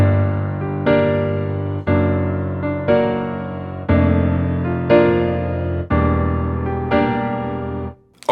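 Piano plays the chorus pattern of a song, with eight evenly spaced sustained chords, one per bar, ringing alone and close before a brief cutoff at the end.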